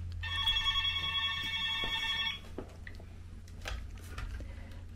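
A telephone rings in one steady electronic burst lasting about two seconds, then cuts off, leaving faint room noise and small clicks.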